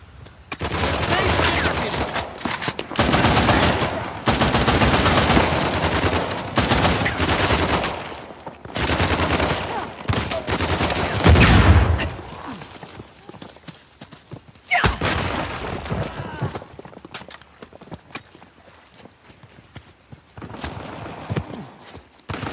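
Bursts of rapid gunfire in the action video game Uncharted: The Lost Legacy, loud clustered volleys in the first half thinning to scattered single shots later, with horse hoofbeats and occasional shouted voices mixed in.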